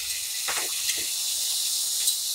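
Tamarind juice hitting a hot pan while cooking North Karnataka junakada vada, giving a steady broadband hiss and sizzle throughout, fairly loud and close, with no talking.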